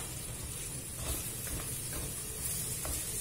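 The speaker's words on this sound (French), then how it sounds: "la viande, ici, elle commence à rissoler" Meat browning in an open tagine pot for a fennel and pea tajine, a faint, steady sizzle and hiss with a few soft stirring touches. Quiet and continuous, with no talk.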